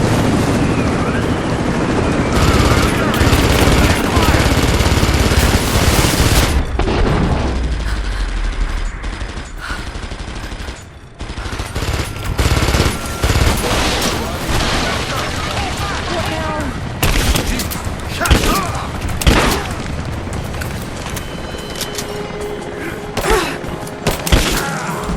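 Covering fire in Rise of the Tomb Raider: sustained bursts of rapid gunfire and heavy thuds amid a dense roar, with a brief lull midway before shots resume, and voices shouting over the battle.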